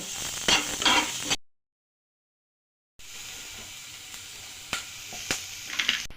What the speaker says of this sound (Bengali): ক্যাপসিকাম, টমেটো দিয়ে ভালো করে হাই হিটে জাস্ট 5 সেকেন্ড নেড়ে নেব।